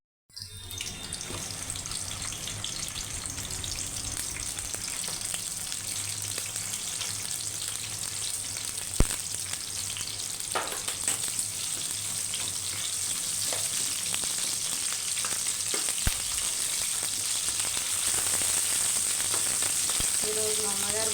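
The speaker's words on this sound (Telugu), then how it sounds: "బాణీ పెట్టుకొని మంచి ఆయిల్ పోసుకొని ఉల్లిపాయలు" Onions fry in oil in a pan for a fish curry, a close, continuous loud sizzle with occasional sharp clicks and stirring scrapes, steady throughout with no talking.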